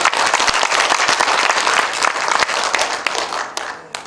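Audience applause at a history and culture conference in the Yeoju Library hall, greeting the Yeoju mayor: dense, steady clapping from a seated crowd for about four seconds, thinning slightly toward the end.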